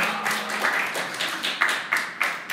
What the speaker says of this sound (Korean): 일단 박수 한 번을 우리 하고.